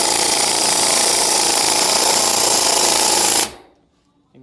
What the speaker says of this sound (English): and you just hammer on this thing.